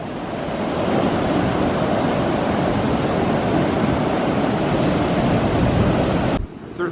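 Dark, stormy surf pounds Santa Cruz beach on a rainy day, a loud continuous wash of breaking waves with wind rumbling against the microphone, cutting off abruptly near the end.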